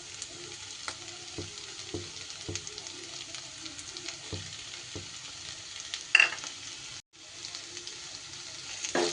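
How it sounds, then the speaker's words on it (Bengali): Mashed paneer is stirred through a frying pan of pointed gourd (potol) curry, with a soft steady sizzle under spaced scrapes of the spoon, one louder clatter and a brief drop to silence near the end. "পনিরটা দিয়ে এবার ভালো করে এটা মিশিয়ে নিতে হবে।"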